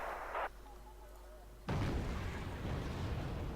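Artillery fire in a strategy video game, one sudden loud boom with a rumbling tail that lingers to the end, following a quieter stretch of faint game sounds.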